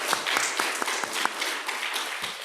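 A church congregation at a Korean Sunday worship service applauds in welcome, with scattered, moderately loud clapping filling the room for a few seconds.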